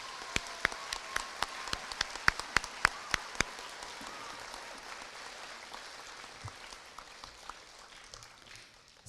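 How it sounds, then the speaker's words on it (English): Sparse, scattered clapping from a small audience at an elementary school awards ceremony honoring a retiring teacher, with distinct individual claps early on that thin out into a faint patter. "How about a big round of applause for Mrs. G?"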